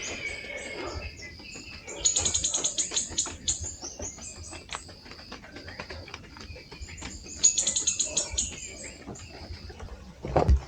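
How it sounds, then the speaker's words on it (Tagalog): Birds chirping and trilling in bursts over a steady background of insect calls, fairly close, with no talking, at dawn near a campsite on Mt. Pulag. "Gising na yung mga ibon."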